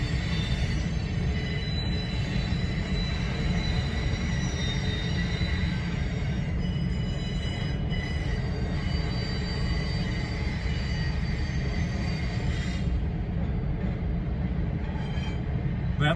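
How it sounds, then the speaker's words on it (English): An Amtrak train rolls past beside the St. Louis arch, giving a steady, continuous rumble of wheels and cars with faint high squeals, loud and unbroken throughout. "There's the Amtrak going by the arch."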